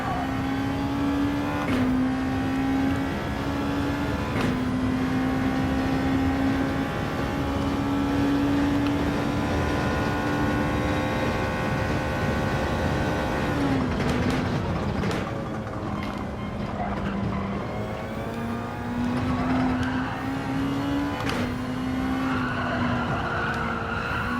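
Race car engine held at full throttle in Gran Turismo 7, a loud sustained high-pitched whine rising and dipping with gear changes and corners, punctuated by brief shifts and tire squeal.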